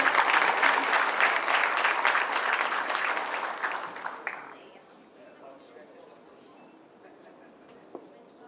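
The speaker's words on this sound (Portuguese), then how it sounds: "Palmas para eles, gente." An audience at a debate on the prison system at Brazil's Procuradoria Geral da República claps in loud, dense applause that tapers off after a few seconds into a quiet room with a stray clap.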